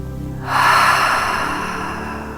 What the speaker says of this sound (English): Big, full, deep breath.